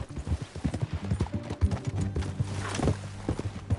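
Horse hooves clip-clop at a steady walking pace in the Western video game Red Dead Redemption 2, crisp and fairly close, with a faint neigh partway through and no voices.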